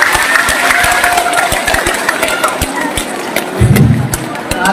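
A crowd at a political rally claps loudly, sharp scattered hand claps over a continuous noisy crowd roar, with some voices and a low rumble near the end.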